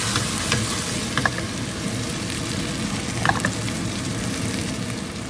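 Three fried pork chops sizzling steadily in hot oil in a pan, with a few light clinks of a utensil stirring them, no talking.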